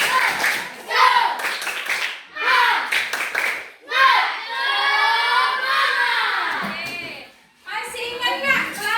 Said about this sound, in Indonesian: kita tepuk semangat dulu biar lebih semangat